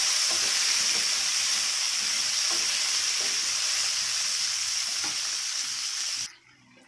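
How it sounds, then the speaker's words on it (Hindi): Green peas stirred and fried with pumpkin in a pan for Bengali khichuri, a loud close continuous sizzle with soft scraping stirs, cutting off abruptly near the end. "और इसको भी थोड़ा सा मिला लीजिए फ्राई करने के लिए।"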